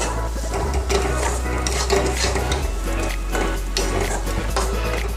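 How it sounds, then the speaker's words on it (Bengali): A metal spoon scrapes and clatters steadily in a pot as garam masala is stirred into a simmering mutton fat curry, close and loud over a constant low sizzle, with no one speaking. "এবার আমি এর মধ্যে দিয়ে দিচ্ছি গরম মশলা ভালো করে গরম মশলাটা এর সাথে মিশিয়ে নেব"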